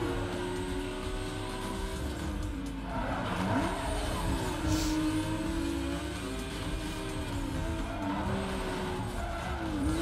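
Racing car engines in a modded Need for Speed Most Wanted (2005) roar continuously with rising and falling revs and occasional tire squeals, a dense game-like engine drone with no talking.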